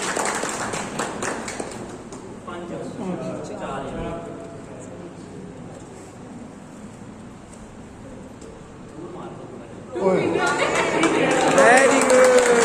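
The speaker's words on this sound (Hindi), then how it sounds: "थैंक यू ताली हो जाए साथ में" A group claps together during a snake-and-ladder financial literacy activity. A voice talks for most of the stretch, then a loud burst of collective clapping breaks out near the end and carries on.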